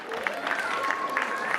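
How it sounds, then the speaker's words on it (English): Applause and crowd noise from the audience at a newspaper's year-end party, with clapping under a voice speaking over a loudspeaker. "Give them another big round of applause."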